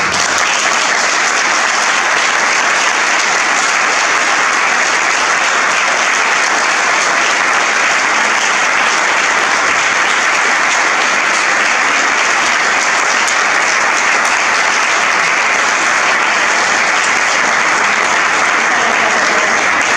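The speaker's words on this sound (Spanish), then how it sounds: "quería pediros, pues eso, un aplauso para María" A large audience gives María Rodriguez-Salinas a long, loud, steady round of applause after her talk on diving among sharks, dense clapping continuing unbroken for about twenty seconds.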